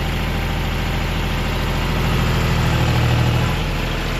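A John Deere 5105 tractor engine idles steadily at 1500 RPM with the lift fully down, a close, continuous mid-to-low diesel rumble with a faint steady vibration throughout.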